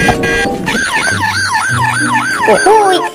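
A police car siren wails close and loud in a rapid rising-and-falling pattern, with a brief deeper horn-like tone underneath, and no talk over it.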